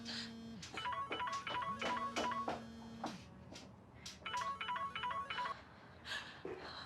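Telephone ringtone in a Turkish TV drama scene: repeated electronic ringing bursts in patterned phrases, several cycles with short gaps, fairly clear and moderately loud over a quiet room background.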